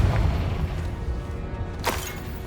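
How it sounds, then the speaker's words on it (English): A Confringo explosion spell goes off in the Hogwarts Legacy video game, a low rumbling boom followed by a brief bright whoosh and crackle, with a muffled game soundscape beneath. "This is a bomb! Confringo."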